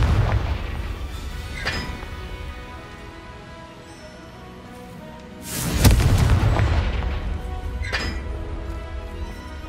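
Confringo blasting spell explosions in the Hogwarts Legacy video game: a strong booming blast near the middle with two lighter bursts before and after, over a steady low rumble of game ambience.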